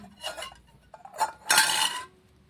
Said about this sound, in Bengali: এখন এটাও দেখুন ডাবুর সাহায্যে ভালোভাবে মিশিয়ে